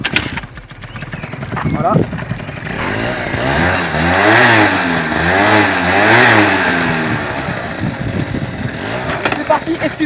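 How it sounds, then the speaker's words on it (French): An MBK Booster scooter without electric start is kick-started and its small engine revs up and down loudly, with a brief word spoken near the end. "le Booster One n'a pas de démarrage électrique, donc au kick, mais c'est pas grave, ça démarre très bien"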